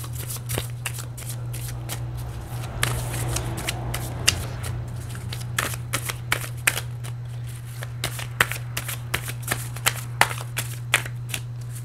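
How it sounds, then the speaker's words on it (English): Tarot cards are shuffled up close in a series of sharp riffles and slaps over a low steady hum, with no talking. "let's give it a quick shuffle"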